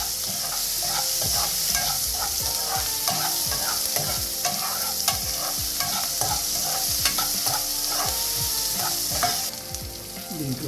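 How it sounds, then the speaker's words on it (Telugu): Onions frying and sizzling in a pan while being stirred for a brinjal onion curry, a steady hiss with repeated scraping stir strokes throughout. "మనం ఇందాక తీసుకున్న ఉల్లిపాయలు వేసాం."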